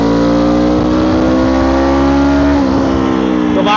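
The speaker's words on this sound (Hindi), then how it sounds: "50 से दोबारा एक्सीलेटर देते हैं" A Suzuki Inazuma 250 motorcycle accelerates hard in first gear, its engine note rising steadily as a loud, close drone with rich harmonics, then briefly dipping near the end as the throttle eases.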